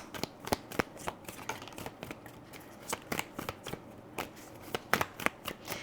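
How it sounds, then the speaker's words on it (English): Tarot cards being shuffled by hand, a quick series of close, crisp riffling snaps and flutters in an irregular rhythm, quiet and alone. "Let's get some more cards out."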